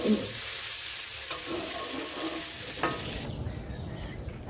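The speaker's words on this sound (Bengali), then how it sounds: "দেখো ভাজা কিন্তু প্রায় হয়ে গেছে" Food frying in a pan gives a steady, close sizzle for about three seconds, then drops to a quieter crackle as the heat fades.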